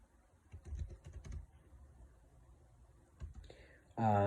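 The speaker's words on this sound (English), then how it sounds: "I'm typing these notes." Soft clicking of computer keys in short bursts, close and quiet, followed by a brief voice at the end.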